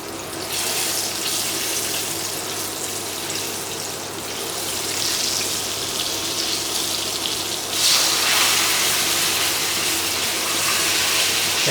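Chicken pieces deep-frying in boiling oil for Cantonese garlic fried chicken, a dense steady hiss and crackle that swells louder partway through and holds.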